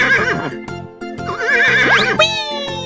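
A horse neighs in a 3D animal sliding video game, a loud whinny rising and falling over steady game music with repeated rhythmic beats.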